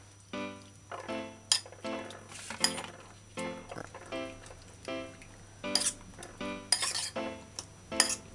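A utensil stirs marinated chicken pieces, seasoned with light soy sauce, salt and cooking wine, in a bowl, giving repeated close clinks and scrapes in an uneven rhythm over a steady low hum.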